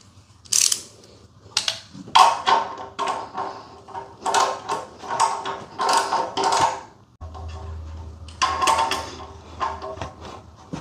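A ratcheting wrench snugs catalytic converter bolts on a 2005-2010 Chevrolet Cobalt, producing several close bursts of quick clicking separated by short pauses, with no talking.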